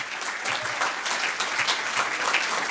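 Sustained applause from an audience thanking a speaker after a historical lecture, steady dense clapping throughout with no voices over it.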